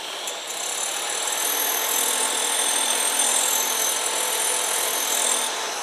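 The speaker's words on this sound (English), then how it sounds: "the first operation is to remove any burrs that you've got on the back edge" A rotary mower and tool sharpener's spinning wheel grinds burrs off the back edge of a mower blade, a steady, close, hissing whir held at even loudness without a break throughout.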